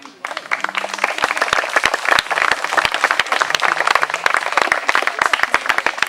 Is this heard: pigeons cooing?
no